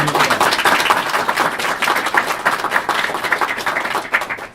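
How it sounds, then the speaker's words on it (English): A roomful of people clapping steadily for the day's winners at an IEEE EPICS engineering outreach event, a thick continuous patter of applause that tapers slightly toward the end. "Let's have a big round of applause for our winners of the day."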